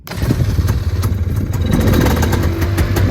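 A Honda FL400 Pilot off-road buggy's engine starts and settles into a loud, steady running rumble close by, with uneven pulsing at first before evening out.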